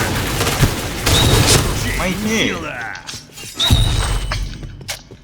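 Gunfire bursts in the Point Blank shooter game, rapid shots with crashes and booms mixed in, loud and close, while someone talks over much of the action.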